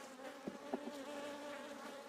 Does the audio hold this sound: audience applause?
no